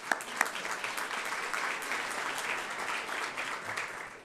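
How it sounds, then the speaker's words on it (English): A room full of people at an economic forecast event clapping, starting with a few sharp claps and swelling into sustained, moderately quiet applause before tapering off. "I think that deserves another round of applause."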